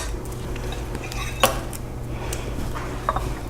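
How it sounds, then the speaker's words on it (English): Clinks of metal utensils against a sheet pan as a piece of baked Greek spinach pie (spanakopita) is lifted out, a sharp scrape near the middle and a lighter clink toward the end, close and quiet in a kitchen. "Let me just take a piece out of here to show you."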